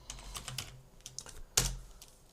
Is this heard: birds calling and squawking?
no